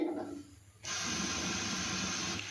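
A pot of water with two large onions, five or six green chillies and ten to twelve garlic cloves comes to a boil over a gas flame, giving a steady, fairly loud hiss and bubbling after a brief quieter moment.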